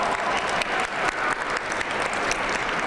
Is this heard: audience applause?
yes